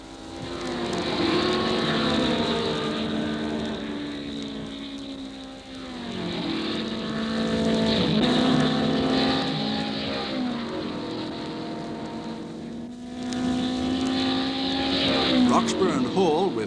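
Racing cars from the 1960 Easter Bathurst 100 at Mount Panorama roar through the cutting, a steady loud engine drone with rising and falling pitch as the leaders pass, continuous throughout with a commentator talking over it.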